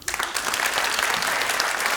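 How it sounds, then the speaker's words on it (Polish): A cabaret audience in a Polish comedy show bursts into loud, dense applause for a woman named Ania, steady clapping filling the whole stretch without a pause. "Wielkie brawa dla Ani."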